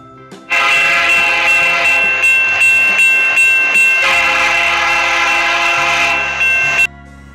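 Train sound effect with a horn or whistle tone, loud and steady for about six seconds, with rhythmic clickety-clack pulses under a musical backing, in a children's alphabet lesson.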